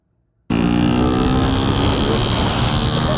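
A Honda Raider FI motorcycle engine revs hard, a loud sustained roar that starts abruptly after a brief silence and holds steady up close, with no talk over it.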